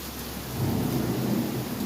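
Thunder during a night rainstorm outside an apartment walkway, a low rumble that swells midway and rolls on beneath a constant hiss of falling rain.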